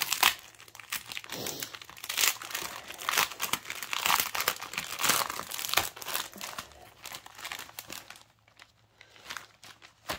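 Sealed plastic packaging on a Dimensions cross-stitch kit being pulled and wrestled open, a dense, continuous crackle of crinkling and tearing plastic close up, ending in a brief quieter pause, with no talking.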